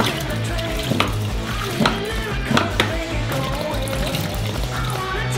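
Milk pours from an opened carton into a saucepan, a steady liquid trickle and splash heard close up over a constant low hum, with a few clanks of the pan and no talking.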